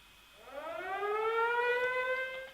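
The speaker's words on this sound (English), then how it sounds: "that alarm is bad news" An alarm siren in the Valkyria Chronicles video game winds up from low to a steady high wail, loud and alone, with no talking over it.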